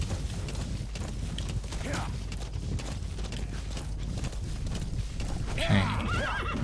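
A horse in the Metal Gear Solid V video game gallops with rapid, steady hoofbeats and gives a whinny near the end, heard under someone talking in German.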